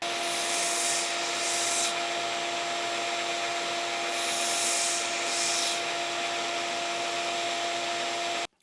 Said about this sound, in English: it would be better for me to do the whole thing on the 1x30, like I have up to an 800 grit belt on the 1x30